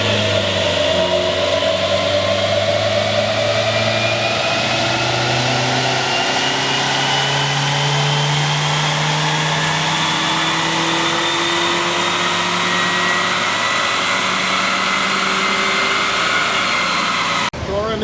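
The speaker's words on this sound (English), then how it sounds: "this is short ram intake pull number 1" A Nissan Juke engine on a dyno during a short ram intake pull revs steadily upward for about eighteen seconds, loud and close, its pitch climbing in one continuous sweep.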